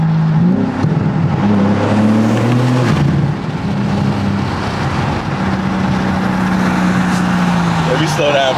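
2022 BMW M4 Competition with a JB4 tune accelerating from inside the car, loud engine tone rising through the gears with shifts between them, then settling into a steady drone while a voice speaks over it.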